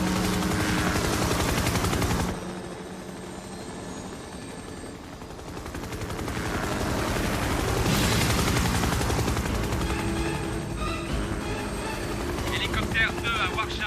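A helicopter in a 1999 Dolph Lundgren action film, loud rotor thumping and engine whine that fades for a few seconds and then swells back up, mixed with bursts of what sounds like gunfire and dialogue.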